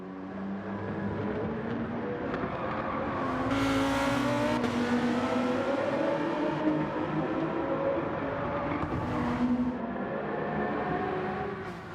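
Race car engines roar steadily in a Gran Turismo 7 Gr.3 race, one car close in a Porsche's slipstream, with dense engine drone and shifting harmonics throughout and a couple of brief louder swells.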